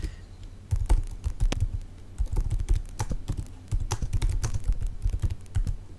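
Up close on a computer keyboard, fast typing gives irregular bursts of crisp key clicks, with a few brief pauses between runs.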